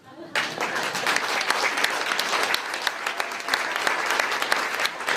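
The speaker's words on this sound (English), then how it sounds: "Thank you so much for the standing ovation" Demo day audience breaks into sudden loud applause during a standing ovation, sustained heavy clapping from a large crowd with a voice faintly underneath.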